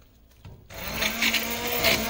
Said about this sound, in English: we're going to blend it all up